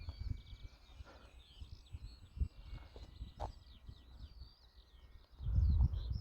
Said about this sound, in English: You guys can hear those birds,